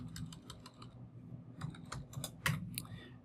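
Quiet, quick tapping on a computer keyboard during command-line work, irregular bursts of keystrokes with a few sharper clicks, close but low over a faint background hum.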